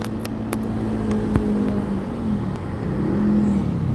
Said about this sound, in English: there's a poor truck there in front of us